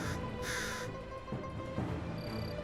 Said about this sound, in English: It's the sound of crows.